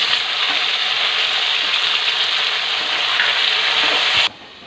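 Tomato-based fish curry fries in a pan with a loud, dense sizzle while being stirred. The sizzle stops abruptly near the end, leaving quiet room noise.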